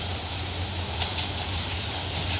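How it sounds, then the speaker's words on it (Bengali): A Dhaka–Chittagong mail train rolls into the platform at Ghorashal railway station, a steady low rumble and broad hiss of wheels and carriages close by, holding level throughout. "কাঙ্ক্ষিত ট্রেনটি কিন্তু কুরাশাল প্ল্যাটফর্মে প্রবেশ করলো"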